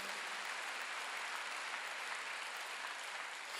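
A church congregation at a Wednesday worship service claps together, a continuous even wash of applause heard from a distance, fairly quiet and steady with no pauses.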